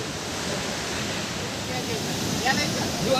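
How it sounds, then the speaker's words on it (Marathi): A steady, loud rush of the Kalu waterfall roars without pause, a constant broadband wash of sound. "असा हा धबधबा"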